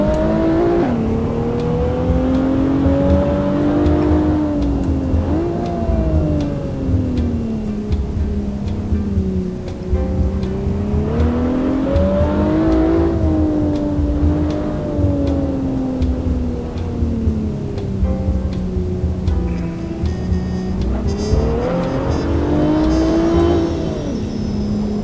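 Rally car in the Assetto Corsa racing game, the engine droning loud and steady for the whole stretch, pitch rising and falling as the revs swing through gear changes and corners.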